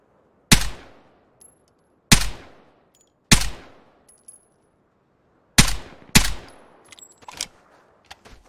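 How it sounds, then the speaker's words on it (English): Five or six sharp, loud gunshots ring out at irregular intervals in the online shooter game Vigor, each with a quick decaying tail and a few faint clicks and clinks between them, no voices. "Someone else is shooting at him?"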